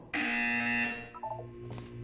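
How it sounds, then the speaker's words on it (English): A loud electronic buzzer sounds once for about a second in the video game Portal 2, then fades into softer electronic tones. "When you hear the buzzer, look down at the floor."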